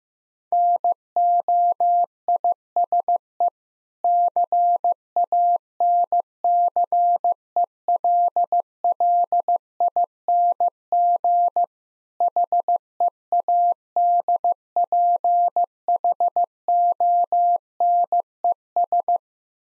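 Morse code at 15 words per minute spelling noise-canceling headphones, a steady single-pitched beeping tone in dots and dashes with short gaps between letters and a longer pause midway, clean and alone.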